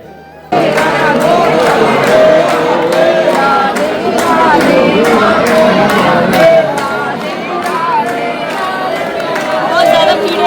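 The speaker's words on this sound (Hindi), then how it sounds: "बहुत ज़्यादा भीड़ है।" A large crowd of pilgrims queuing at a temple in Vrindavan, dense overlapping chatter and voices close around, with occasional shouts and thumps throughout.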